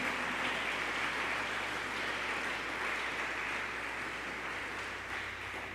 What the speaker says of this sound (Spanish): ¿Cuántos le pueden dar un aplauso a Jesucristo?